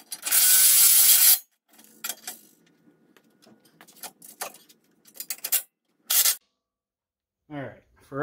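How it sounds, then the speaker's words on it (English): A ratchet tightens bolts holding a Ford Bronco full skid plate to the frame, with short, loud bursts of mechanical clicking and rattling separated by quieter gaps while someone speaks. "I will go ahead and tighten these up on the frame."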